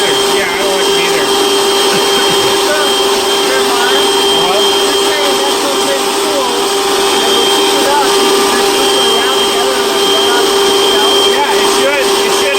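A dual stage Tesla turbine drives a generator with a steady, loud whine and rushing hum that carry on unbroken from start to finish, with voices talking over it.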